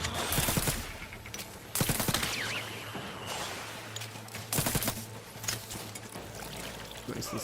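Bursts of rapid gunfire from shooting an enemy in the video game Outer Worlds 2, four loud, sharp volleys spaced a couple of seconds apart over a low steady game soundscape.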